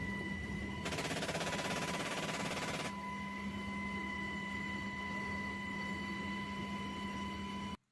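Rapid automatic gunfire from a video game, a dense two-second burst of fast shots over a steady electronic hum, fairly faint and at a distance.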